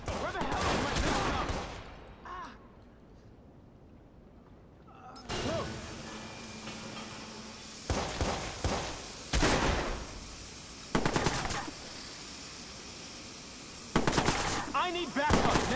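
Gunfire in the Watch Dogs video game crackles in several short bursts spread through the scene. A quieter lull falls early on, and game voices are heard between the volleys.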